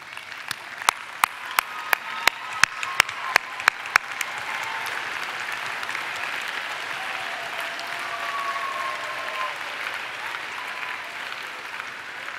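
An audience at the Northwestern State University of Louisiana 2018 spring graduation ceremony applauds graduates' families: a few scattered claps build into sustained, fairly distant applause filling a large hall.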